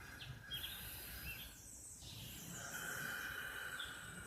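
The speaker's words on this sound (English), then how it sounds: "I listen to the birds" Birds chirp and sing outdoors in the morning, faint and distant, with thin tweets and a few brighter calls over a soft background hush.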